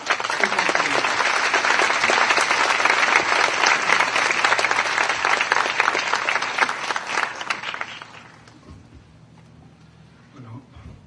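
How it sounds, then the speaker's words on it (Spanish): A warm round of applause from a lecture-hall audience welcoming a speaker to a conference on ICT in education: dense, steady clapping for about eight seconds, then it quickly dies away into quiet room noise. "quisiera pedirles un caluroso aplauso para que él inicie su conferencia"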